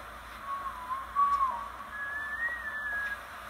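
A person whistles a short, gentle tune of a few sliding notes, quiet and close, against a faint steady hum.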